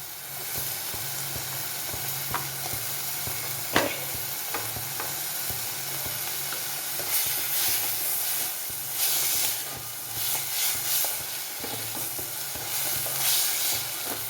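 Raw plantain pieces frying in a pan with garlic and tomato, a continuous loud sizzle and hiss with occasional clinks and scraping from stirring throughout.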